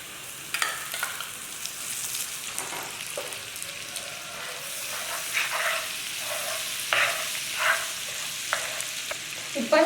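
Three tablespoons of butter sizzle and melt in a hot pan, a steady frying hiss with small crackling pops and occasional stirring scrapes, close and fairly loud with no talk.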